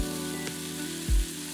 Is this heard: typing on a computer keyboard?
no